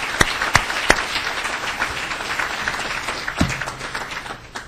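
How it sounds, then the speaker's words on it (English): An audience at a semi-pro football Hall of Fame induction ceremony claps steadily, with a few sharp, close claps standing out from the fairly light applause. "So if you would please give all the real family an applause."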